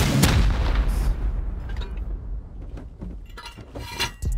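Rockets explode during a raid in the game Rust, a loud heavy boom at the start decaying into rumbling debris, followed by scattered smaller cracks and impacts.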